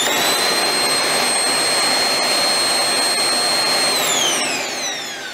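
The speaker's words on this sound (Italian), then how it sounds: "L'aspirapolvere, adesso lo aziono," A Rowenta RO6743EA Ergo Force Cyclonic vacuum cleaner runs steadily with a high-pitched whine and broad airy roar, then its pitch drops as it begins winding down near the end.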